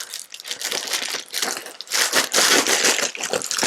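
Plastic packaging of a prize package that arrived in the mail crinkles and crackles while being opened by hand, in close, continuous bursts growing busier toward the end.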